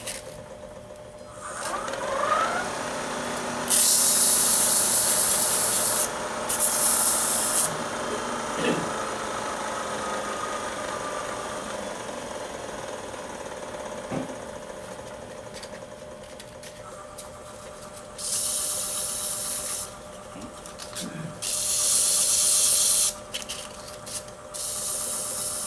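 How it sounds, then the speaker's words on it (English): Sanding the hub of a wooden spike star ornament in a workshop, with bursts of power-tool whine and hiss starting and stopping over a low background hum. "And I want to sand it."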